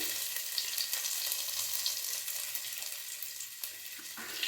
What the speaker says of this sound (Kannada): ಈಗ ಶುಂಠಿ ಹಾಕ್ತಿದ್ದೀನಿ